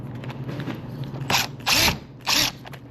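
A power drill drives a screw in three short, loud whirring bursts separated by brief pauses, close up over a quiet background hum.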